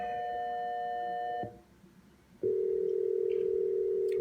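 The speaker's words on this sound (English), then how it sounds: "modulated dial tone" Modulated dial tone from a telephone switch tone-plant chip: a steady, loud electronic hum with a warbling, wavering quality, stopping briefly before resuming at a lower, stronger pitch.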